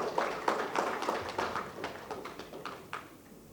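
Scattered audience clapping welcoming a guest at a PSU transformation conference, a handful of distinct claps in a short uneven burst that gradually thins out and fades.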